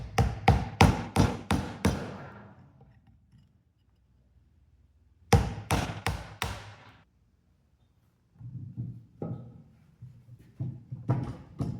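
A chisel struck into wood to clean out rounded mortise corners for a pedestal table base, sharp mallet-like taps in quick bursts of four to six with pauses between, close and loud, no talking.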